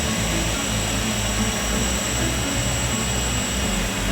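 An Emachine X220S quadcopter drone hovers with its propellers spinning, giving a loud, steady high-pitched whine with a buzzing undertone that holds without a break throughout.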